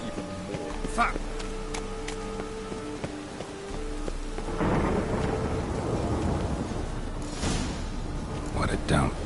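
Rain falls in a city in The Witcher 3 as a steady hiss that thickens partway through, with a thunder rumble mixed in and a few brief sharp game sounds near the end.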